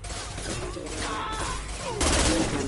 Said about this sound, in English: Wow, that was a big shot.